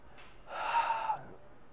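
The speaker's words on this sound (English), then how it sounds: "take a deep breath in" One deep breath drawn in through the nose and mouth, close and quiet, rising to a soft airy peak and then fading, with nothing else around it.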